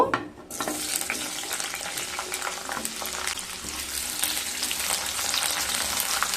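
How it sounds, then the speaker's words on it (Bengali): Bitter gourd pieces frying in oil sizzle loudly and steadily close by, with a brief quiet start followed by dense, bubbling crackle and occasional stirring scrapes. "এবার উচ্ছেগুলোকে ভেজে নেব।"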